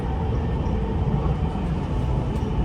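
Steady low rumble and rolling hum of a Dubai Metro train running, heard continuously from inside the carriage without pauses.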